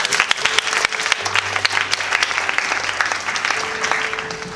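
Church congregation giving sustained, dense applause for God, loud and close, with a few voices calling out in the crowd.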